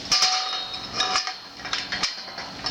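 A brand new clamp is tapped a few times, giving bright metallic clinks and knocks in a steady run of close, ringing hits.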